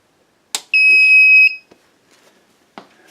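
A 24-volt 1000-watt inverter gives a single shrill electronic beep lasting under a second on being switched on, followed by faint clicks and small noises.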